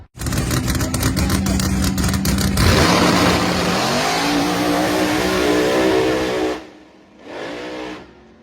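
Hot rod race car at a small tire drag race roars loudly for about six seconds, its engine pitch climbing as it accelerates away, then cuts off before a second shorter burst.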